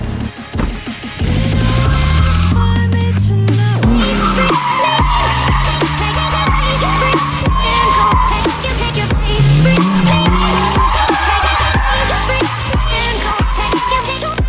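Ford Mustang drifting around a track, with a loud, sustained engine roar and long tire squeals that rise and fall through the slides, close and dominant throughout.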